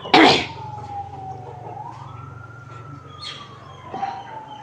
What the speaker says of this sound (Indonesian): Bunyi ambulan pemirsa.